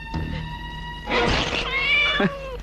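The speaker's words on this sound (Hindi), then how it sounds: "अरे ये तो बिल्ली है, तुम बिल्ली से डर गई?" A house cat meows at night indoors, a couple of drawn-out, fairly loud meows close by, with a thump in the middle and no talking over them.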